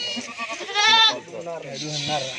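A goat bleats loudly nearby at a goat farm while goats and kids are loaded onto a cargo vehicle, giving one wavering, drawn-out cry as people talk over it.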